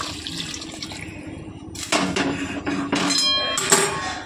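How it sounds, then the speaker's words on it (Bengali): Hot water pours into a pot of atap rice khichdi, a sudden rushing splash that keeps gurgling and sloshing for a couple of seconds after a quieter stretch of background noise. "তো বন্ধু এবার আমি এই জলটা দিয়ে দেবো,"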